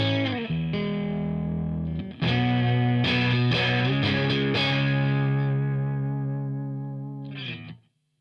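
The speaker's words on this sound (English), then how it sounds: "it's a pretty warm and organic sounding fuzz." Warm, organic analog fuzz from a Seymour Duncan Fooz synthesizer pedal on a played instrument, sustained chords with a few accented restrikes, loud and up front, fading out at the end with no voice.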